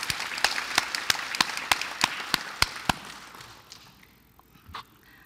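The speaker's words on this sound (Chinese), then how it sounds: "请大家热烈掌声欢迎" Applause welcoming visitors in a council chamber: a modest group claps with distinct individual claps standing out over a softer wash, fading away over a few seconds.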